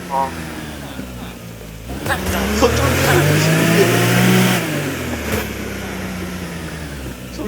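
A car in a video game, apparently Sąsiedzi 2, drives in reverse, its mid-pitched engine revving up to a sustained, loud drone before easing off, with people talking over it.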